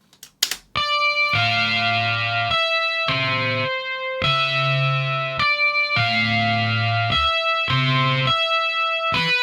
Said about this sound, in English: This is what we do with the delays effect